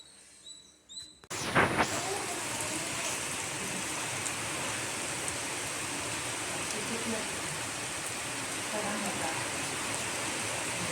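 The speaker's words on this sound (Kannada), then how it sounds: "ಜೋರು ಬರತ್ತೆ ನೋಡಿ ಮಳೆ." Heavy rain pours down in a steady, dense hiss after a sudden onset, continuing loud and unbroken with faint background voices early on.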